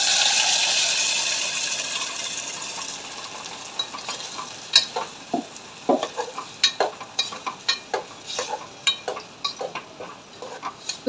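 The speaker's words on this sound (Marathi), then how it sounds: "आता बारीक केलेली खोबऱ्याची चटणी टाकून घेऊ।" Fresh coconut chutney dropped into a hot tempering of mustard seeds and curry leaves gives a loud sizzle that fades, followed by a rhythmic series of sharp scraping stirs against the pan.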